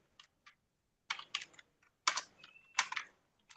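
Code being typed on a computer keyboard, quiet close clusters of key clicks in uneven bursts with short pauses, no talking.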